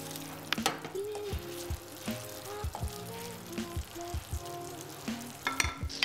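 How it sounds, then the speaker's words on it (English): Green tomato chutney bubbles and fries in a pan while a spoon is pushed through the thick mixture, giving soft sputtering pops and repeated scraping knocks at an uneven rhythm. The sound is close and fairly quiet, with no talk. "Continue to stir the mix from time to time"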